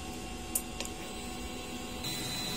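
A DTF printer runs a print-head cleaning cycle with a steady mechanical whir and hum, broken by a couple of faint clicks early on and a slight rise in pitch toward the end.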